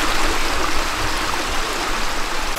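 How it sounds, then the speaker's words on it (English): Rushing water of a three-tier waterfall along the West Fork bikepacking route near Glen Camp, a steady broadband roar close by with no talking. "me and David, we decided to check out the waterfall"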